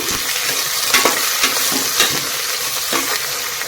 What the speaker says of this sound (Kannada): ಒಂದು ಆಲೂಗಡ್ಡೆ ಹಾಗೆ ಒಂದು ಟೊಮೆಟೊ ಇದನ್ನು ಮಿಕ್ಸ್ ಮಾಡ್ತೀನಿ ಎಣ್ಣೆಯಲ್ಲಿ ನಾವು ಫ್ರೈ ಮಾಡಬೇಕಾಗುತ್ತೆ ಇದನ್ನು